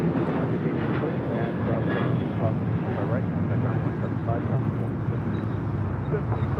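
An airliner, flight 987 arriving at LAX from Beijing, produces a steady, unbroken rumbling roar at moderate distance for the full length, with no break or rise.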